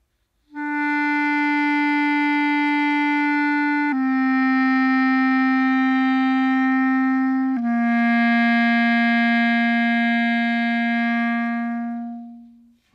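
Three sustained reedy clarinet notes played one after another, each held several seconds, stepping down slightly in pitch, clear and close with no talking.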